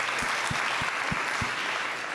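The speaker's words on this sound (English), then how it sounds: "Let's give these guys a round of applause." An audience at a real estate investing event in Charlotte gives a sustained round of applause, a dense steady wash of clapping with a few low thumps scattered through it.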